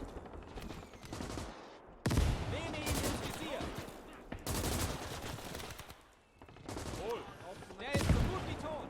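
Mortar blasts and gunfire in the WWII Eastern Front game Call to Arms Gates of Hell burst out in loud, heavy waves, with rattling volleys and booming impacts that recur every couple of seconds, while people talk over them.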